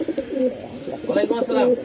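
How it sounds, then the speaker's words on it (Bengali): A pair of Arabian pigeons coo in low, throaty, rolling calls, close by and fairly loud, repeated twice over a couple of seconds. "এক জোড়া আরবি কবুতর"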